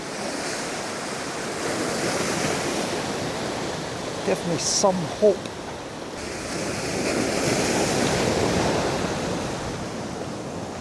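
Ocean surf on the coast of Brittany in December, steady broadband wash of breaking waves with some wind noise, swelling louder near the end; someone speaks briefly in the middle.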